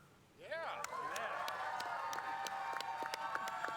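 A live studio crowd breaks into applause and cheering, a sustained wash of clapping with scattered whoops and shouts rising after a brief quieter start and holding at moderate volume.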